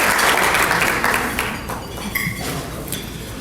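Applause from the crowd at a community awards dinner in Westmont, dense clapping that is loudest at first and then thins out and fades, with some faint voices behind it.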